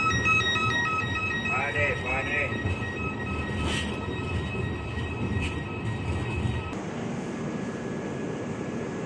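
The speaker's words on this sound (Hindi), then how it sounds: "ट्रेन हमारी आके प्लेटफॉर्म पे लग चुकी है" Rewanchal Express train running from Rani Kamalapati to Rewa pulling in at a station platform, a steady rumble with a few horn-like tones and distant station voices over the rolling noise.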